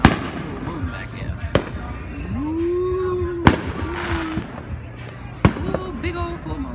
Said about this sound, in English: Anyway, back to the fireworks.